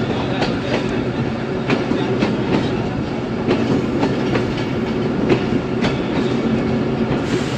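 A Ravi Express train rolls steadily into Chichawatni railway station, with continuous rumbling and rhythmic clickety-clack of wheels over rail joints, close and sustained throughout.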